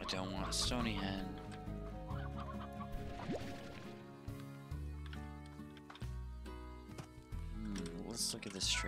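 Hens clucking in the Slime Rancher game, a busy layered mix of clucks over steady game music with someone talking throughout.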